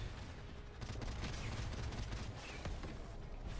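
A machine gun fires in Call of Duty 4: Modern Warfare Remastered, delivering a continuous rapid burst of dense gunfire with booming low end that runs the whole stretch, with no talk over it.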